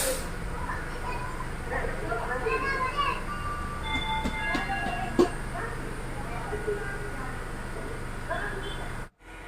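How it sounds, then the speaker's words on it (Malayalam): A train pulls out of Yelahanka Junction railway station near Bangalore, its steady rumble and rattling carriages continuing at length from inside, with a brief squeal partway through and a sudden cut near the end. "നമ്മുടെ ട്രെയിൻ അങ്ങനെ ഇതാ യലഹങ്ക റെയിൽവേ സ്റ്റേഷനിൽ നിന്നും പുറപ്പെട്ടിരിക്കുകയാണ്"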